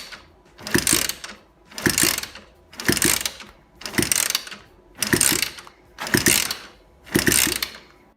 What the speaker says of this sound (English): Compression test.